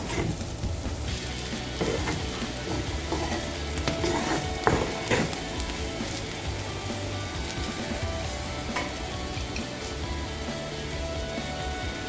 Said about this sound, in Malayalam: നമ്മളിത് ഇടയ്ക്കിടയ്ക്ക് ഇളക്കി കൊടുക്കണം, അല്ലെങ്കിൽ ചിലപ്പോൾ അടിയിലൊക്കെ പിടിക്കും.